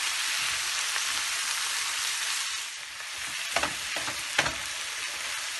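Bitter gourd with cumin seeds fries in a pan over full flame, a loud continuous sizzle that dips briefly before several scraping stir strokes near the end.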